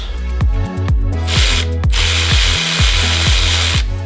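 Power gun with a T30 wobble socket unscrewing an intake bolt on an Audi RS3, a loud close rattling impact whir with quick stuttering bursts and short pauses in between.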